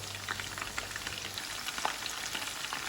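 Chicken 65 pieces fry in hot oil, a steady crackling sizzle with scattered sharp pops throughout, close and moderately loud, with a faint low hum underneath and no voices.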